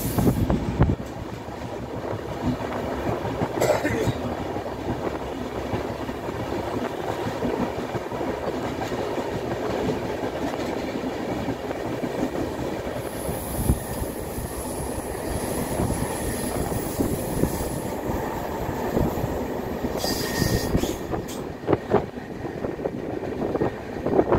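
Kriya Yoga Express rolling on rails from Howrah toward Ranchi, with a steady continuous rumble and rhythmic clickety-clack of wheels throughout, loud and close from inside the moving train, with no talking.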